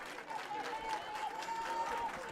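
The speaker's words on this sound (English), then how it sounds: "Crowd is alive here at Blue Valley West High School." Crowd noise rises from the stands at a KSHSAA 3A quarterfinal high school baseball game at Blue Valley West High School, Girard against Jeff West. It is a steady, fairly faint wash of applause and cheering with a thin tone running through it.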